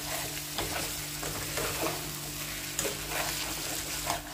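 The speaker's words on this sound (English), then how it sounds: "Going to fry in high flame for 10 minutes." Mutton with spices sizzles and fries over a high flame, a continuous close hiss broken by stirring scrapes and a few sharper utensil knocks, with no voices.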